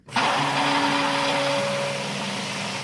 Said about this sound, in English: this may take a while here to blend up